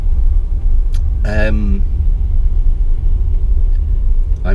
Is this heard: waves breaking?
no